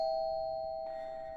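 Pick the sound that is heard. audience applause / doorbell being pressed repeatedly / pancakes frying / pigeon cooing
doorbell being pressed repeatedly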